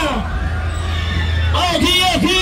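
Brief burst of riders screaming and whooping on the King Loops fairground ride at Hull Fair, a loud crowd shout layered over a low rumble of ride machinery.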